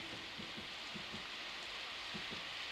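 Heavy rain pours at night over a town shopping district, a steady dense hiss with scattered heavier drops pattering throughout, with no voices.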